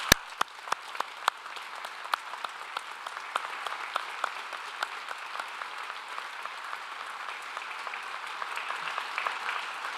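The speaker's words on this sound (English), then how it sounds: "I would like to now invite our graduating class to join me in a round of applause for the" Applause at a university graduation ceremony: a few sharp, close claps at the start swell into a broad, steady ovation from a large audience that continues evenly throughout.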